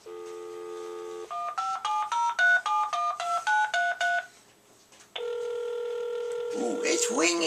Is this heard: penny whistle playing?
no